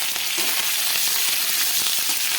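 Seven or eight crushed garlic cloves and a pinch of coriander sauté in a pan for a mixed vegetable curry, giving a steady, close, loud sizzle throughout with no talking.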